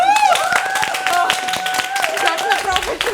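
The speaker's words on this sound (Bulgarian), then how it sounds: "Сега може да пляскате." A studio audience bursts into steady, dense applause for a Bulgarian TV show, with cheering and whistling voices riding on top throughout.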